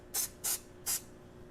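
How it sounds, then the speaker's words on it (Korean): Three short, loud hissing bursts of zinc spray hit a car's exhaust underbody, evenly spaced with brief quiet gaps between them, with no voices over them. "아까 말씀드렸던 징크 스프레이 이렇게 뿌려주시면 됩니다"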